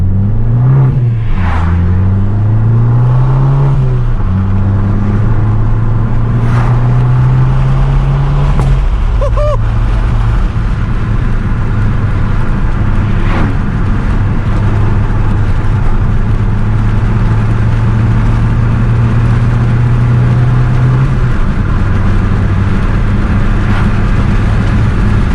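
A Fiat 595 Abarth accelerates hard on back roads. The engine note rises through the gears in loud, sustained sweeps with brief dips between shifts, heard close from inside the cabin.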